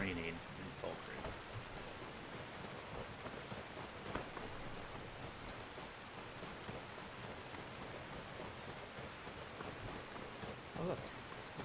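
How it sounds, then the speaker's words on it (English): Steady rainfall in Falkreath in the video game Skyrim, a soft, continuous hiss of drops that stays faint and even throughout. "It's always raining in Falkreath."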